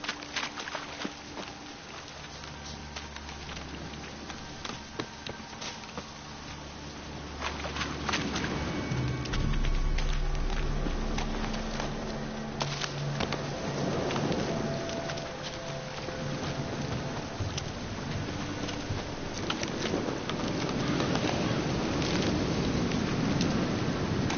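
Rain falling in The Witcher 3 game, a steady wash of patter that swells louder midway and stays dense, with low rumbles underneath like distant thunder.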